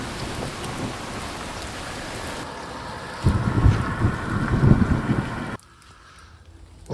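Heavy rain pours steadily in the French countryside, joined by a deep rumble and louder wind gusts midway, then cuts off abruptly to near quiet.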